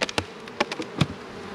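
Honey bees buzz around an opened hive, with several short, close buzzes of individual bees passing near, alone without talk.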